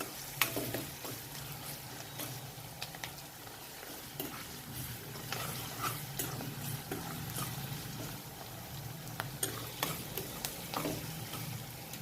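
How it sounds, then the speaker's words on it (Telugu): Salted onions fry in oil for a ridge gourd and chana dal curry. A soft, steady sizzle sits under repeated spoon-stirring scrapes and small clicks, quiet and close throughout, without speech. "ఉల్లిగడ్డ అయితే బాగా మంచిగా గోలాలి"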